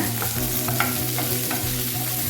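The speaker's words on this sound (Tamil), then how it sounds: "வதக்கிக்கலாங்க ஸ்டவ் மீடியமில் தான் இருக்குது நல்லா வதங்கணும்" Curry ingredients for a ground tomato kuzhambu sautéing in a pan over a medium flame: a steady, close sizzle over a low hum, with a few soft scraping stirs.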